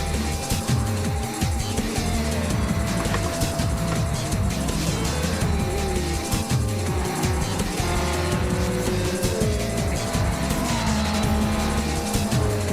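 A race car drifts through the final turn of a racing event, its engine roaring loud and steady with tyre squeal running continuously through the close, dense noise.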